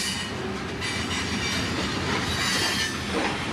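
A freight train's distributed power unit locomotive passing close by, a loud, continuous roar of wheels and railcars with steady rumbling and faint squeal throughout.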